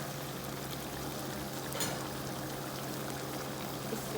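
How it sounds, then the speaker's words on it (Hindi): Ghee pours into a cooking pot for a black pepper chicken masala, a continuous soft liquid stream and hiss heard close up, steady from start to finish with one brief brighter splash near the middle. "अभी मैं डालने लगी हूँ इसमें घी की क्वांटिटी ज़रा ज़्यादा ही होगी"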